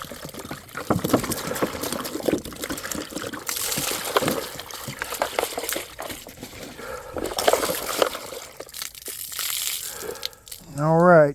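Fresh water splashing and trickling over a Deltaforce 29 twin RC boat after a salt-water run, a busy wet spray with crackling bursts, with voices talking over it and a short loud tonal burst at the end.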